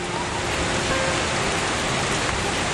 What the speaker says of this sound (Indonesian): Hujannya sangat lebat.